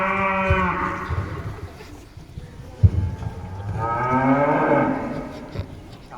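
Cows mooing, two long drawn-out lowing calls close by, each rising and falling, separated by a short pause with a small knock between them.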